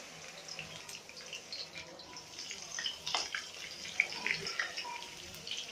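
Crushed garlic frying in hot oil with fried peanuts and chillies for Khandeshi vangyache bharit, a steady soft sizzle with faint crackles and a few brief pops, fairly quiet and without talk.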